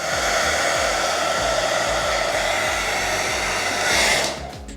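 A heat gun or hair dryer blows steadily at close range while warming the sticker on a scooter tire, a strong continuous whoosh of air that swells briefly near the end and then drops off.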